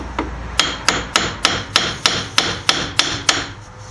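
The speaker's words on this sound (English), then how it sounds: "maybe if I tap this" Sharp hammer taps strike a front wheel axle during a wheel bearing job on a 1992–1999 Pontiac Bonneville: about ten evenly spaced metallic hits in a steady rhythm, close and loud, with no talking.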